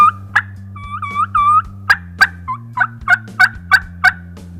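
Three or four wild turkeys gobble and double gobble repeatedly, loud rattling calls overlapping one after another, with a few softer yelps mixed in near the start.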